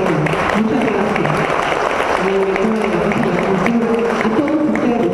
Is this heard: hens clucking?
no